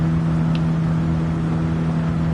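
A Ford Raptor truck engine in Gran Turismo 7 holds a steady, loud droning hum at a constant pitch, a continuous off-road engine note with no clear rise or fall.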